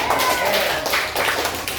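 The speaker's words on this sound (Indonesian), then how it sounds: "tepuk tangan buat anak-anak" Children in a classroom lesson on computational thinking give a brief, dense burst of clapping, close and continuous, with some voices mixed in.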